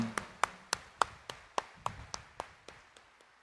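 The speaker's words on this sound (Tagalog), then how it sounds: "Kaya bigyan natin ng mas malakas na palakpak ang mahal na pong Jesus Nazareno." Congregation at Quiapo Church clapping during Mass, a steady, slightly slowing series of about a dozen single hand claps, close and fairly faint.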